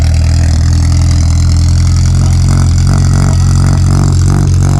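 A Peugeot 106 XSI race car at a historic hill-climb event idles with a loud, close, continuous rumble that holds steady throughout.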